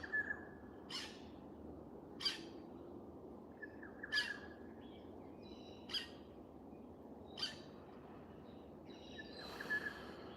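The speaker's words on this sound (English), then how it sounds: "You are that bird screeching in the tree." A bird screeches in a tree, harsh calls repeating about every two seconds over a faint, steady background hiss.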